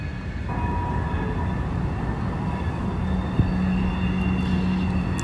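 Train number 361 on the Connersville line rolls through on a cold, windy day, a steady broadband rumble with wind noise and a sustained horn-like tone near the end, fairly distant.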